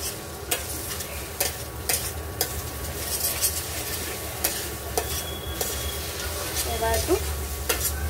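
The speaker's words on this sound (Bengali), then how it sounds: "ডিমটা দিয়ে একটু ভাজা ভাজা করে নিচ্ছি" Egg sizzles and fries with chowmein in a pan while a utensil stirs and scrapes it, giving regular clinking taps over a steady frying hiss, with a brief spoken remark.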